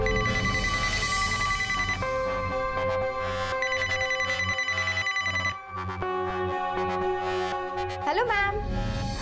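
A telephone rings with a steady electronic ringtone melody, repeating loudly and continuously for several seconds in a household scene of a Marathi TV serial, with a brief voice near the end.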